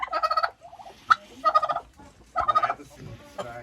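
Two fattened male turkeys on a farm in the Bernese Oberland gobble in repeated rattling bursts, close and clear, with short pauses and a sharp call between them.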